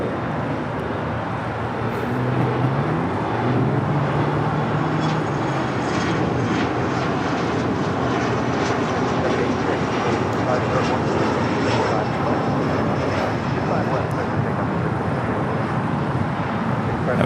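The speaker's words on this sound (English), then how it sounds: "That was JSX Flight 321 heading to Las Vegas in an ERJ 135LR." An Embraer ERJ 135LR regional jet on a JSX flight passes at Los Angeles airport, its steady broadband engine roar holding loud and even throughout, with traffic noise mixed beneath and faint voices nearby.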